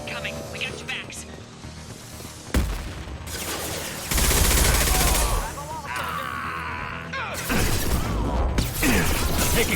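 Mass Effect 2 combat gunfire crackles in uneven bursts, with sharp loud volleys and rattling fire swelling and fading among impacts and game effects, while a voice speaks in places.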